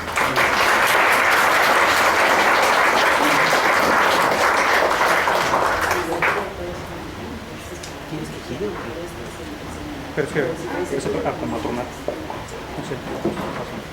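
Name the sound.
audience applause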